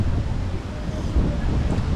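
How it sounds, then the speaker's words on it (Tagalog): Strong wind gusting hard near the open sea in the Philippines, a steady loud roar and buffeting against the microphone throughout, with no voices. "Sobrang lakas ng hangin, grabe"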